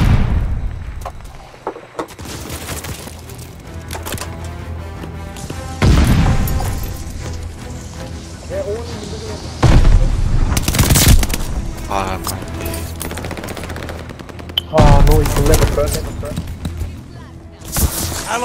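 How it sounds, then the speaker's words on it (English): Mortar barrage explosions in the video game Call of Duty Vanguard, with several heavy booming blasts landing among scattered gunfire and in-game voices, loud and close. "Allies calling a mortar barrage."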